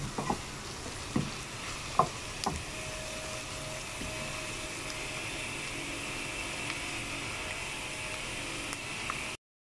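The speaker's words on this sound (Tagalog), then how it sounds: "Okay, lutuin lang natin ang sibuyas." Onions sautéing in a pan for chicken ampalaya, a steady broadband sizzle with a few sharp stirring clinks near the start, close and continuous with no talking.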